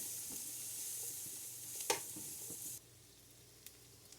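Vegetables for a homestyle pot roast sizzle quietly in a pot, a faint soft crackle with an occasional stir clink, dropping to near silence partway through.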